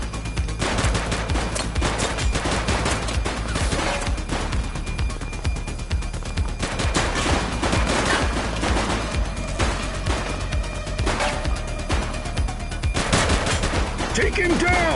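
Loud, sustained gunfire from a police shootout in the video game The Precinct, dense bursts of automatic and single shots cracking continuously over a busy game soundscape.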